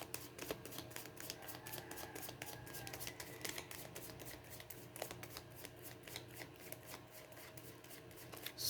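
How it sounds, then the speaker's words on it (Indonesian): Tarot cards being shuffled by hand, a close, continuous stream of quick riffling flutters and soft slaps running without pause, with no talking. "saya kocok kartunya"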